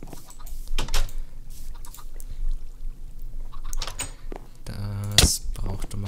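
A chicken in the video game Minecraft gives a few short clucks amid game noises and thumps, ending in a louder, sharper clucking burst.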